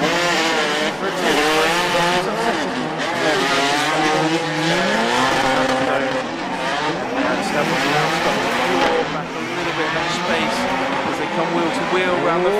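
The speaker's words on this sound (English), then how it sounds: "Racing into the first corner, Stavros, the barbecue man himself" Drift cars race into a corner in a competitive drift event, engines roaring loudly with continuous wavering tire squeal and skidding throughout, while a commentator talks over the action.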